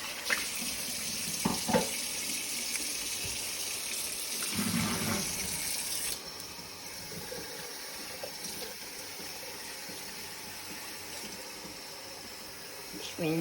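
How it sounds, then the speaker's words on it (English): A tap runs hard as a pot used for cheese sauce is rinsed out, water splashing and rushing steadily nearby with a few clunks of the pot, faint voices in the background. "Just rinse it out."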